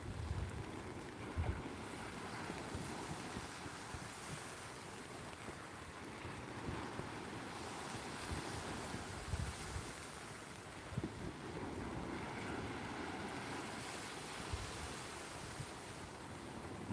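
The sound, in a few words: ocean surf waves breaking on the shore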